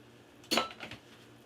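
Spoon clinking and scraping in a cooking pot as meat and potatoes for carne con papas are stirred with water, one short burst of clattering followed by a few softer knocks.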